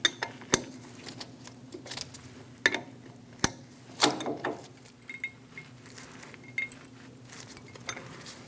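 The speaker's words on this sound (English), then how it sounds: "Get the brake line installed by hand and then snug it down with a wrench." Metal clinks and taps from a wrench snugging a brake line onto the caliper of a 2011-2018 Ram 1500's left rear brake hose, a few sharp close ticks with sparse light rattles between, no talk.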